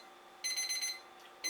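An 8-minute kitchen timer goes off in short bursts of high electronic beeping, fairly faint and close, pausing and then starting again.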